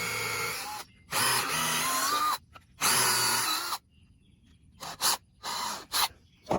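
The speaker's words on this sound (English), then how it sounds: "I'm going to get a countersink bit, and then I'm going to open these up just a little bit." Power drill fitted with a countersink bit boring into wood for a bat house, several short high-pitched whining bursts with pauses between, the motor revving up and down, close and fairly loud.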